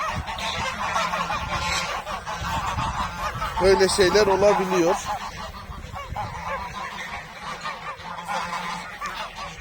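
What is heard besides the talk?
goose honking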